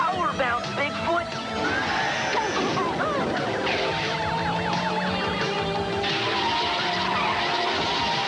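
Bigfoot monster truck skidding across an oil slick in a retro video game, a loud squealing skid amid busy game music and effects, with a voice talking over it.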